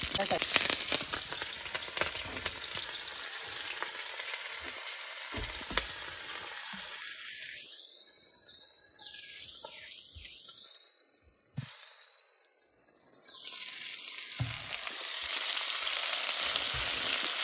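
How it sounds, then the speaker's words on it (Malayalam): Chopped garlic frying in leftover oil while making restaurant-style chilli paneer, a steady loud sizzle that carries the whole stretch and dips briefly as the garlic goes in. "നമ്മൾ ആ ബാലൻസ് എണ്ണയിലേക്ക് ഞാൻ 2 വെളുത്തുള്ളി ഇങ്ങനെ ചെറുതാക്കി അരിഞ്ഞിട്ട് കൊടുത്തേ."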